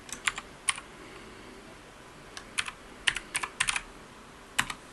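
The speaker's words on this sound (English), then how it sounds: "hopefully I can type it correctly here" A password is typed on a computer keyboard in quick, uneven clusters of crisp key clicks separated by brief pauses, close and fairly quiet.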